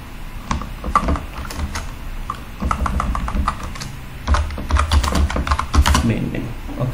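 Rapid computer keyboard typing while building a Bangla Messenger chatbot: close, irregular bursts of key clicks with short pauses, over faint room noise and no speech.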